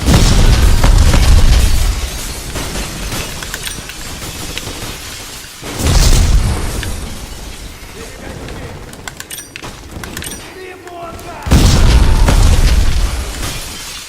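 Grenades blast in the video game Black, a heavy boom near the start followed by two more loud explosions at intervals, with rumbling gunfire and debris in between.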